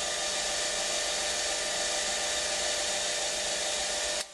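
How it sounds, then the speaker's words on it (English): A synchronous motor runs as an induction motor just under 1,457 RPM, a loud steady broadband whir that holds constant and cuts off abruptly at the end. "And basically it's running now as an induction motor."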